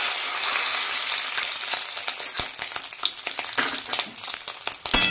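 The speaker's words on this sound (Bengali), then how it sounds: "তেলটা তো গরম হয়ে গেছে, আর মাছের ডিমটা আমি দিয়ে দেবো কড়ার মধ্যে" Fish roe fries in hot oil in a wok, giving a loud, close, continuous sizzle and crackle dotted with sharp pops and a few stirring scrapes near the end, with no talking.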